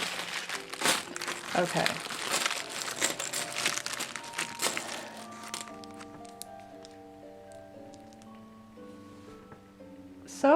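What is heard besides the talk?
plastic bag of LEGO parts being ripped open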